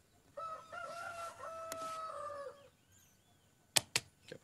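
A rooster crows once in a long, wavering call, loud and fairly close, followed after a pause by a few sharp clicks or knocks.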